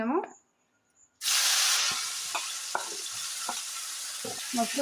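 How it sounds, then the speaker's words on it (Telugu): Sliced mushrooms frying in a little oil with water for a cashew mushroom gravy curry: a sudden burst of loud steady sizzling after a quiet start, with intermittent scraping and stirring clatters of a spatula in the pan. "ఇలా ఇది కొంచెం కలర్ మారినంత టైం వరకు వేపుతుండాలి"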